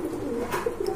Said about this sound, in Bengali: এখানে কিন্তু খুবই সুন্দর চমৎকার দেখার মতো এক জোড়া কবুতর